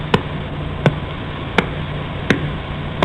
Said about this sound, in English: We're taking a radio pulse and we're converting it to sound.